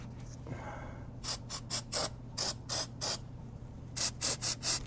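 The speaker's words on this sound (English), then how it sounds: "We'll get our trusty contact cleaner. We'll just kind of spray around some of these parts and try to clean it up a little bit." Contact cleaner is sprayed from an aerosol can onto KTM motorcycle parts in a series of short, sharp hissing bursts. The bursts come in two rhythmic groups with a brief pause between them, close up and without speech.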